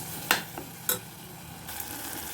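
Tomato and ginger-garlic paste sauté in a pressure cooker with a soft, low sizzle, punctuated by two quick metallic scrapes of a spoon stirring near the start.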